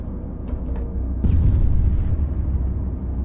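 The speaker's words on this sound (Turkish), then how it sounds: "Tam merasimle gidiyor mermi. Obüs olduğu için." A howitzer shell fires in Arma 3 with one sudden, heavy boom partway through, its deep low rumble swelling and lingering over a steady background drone.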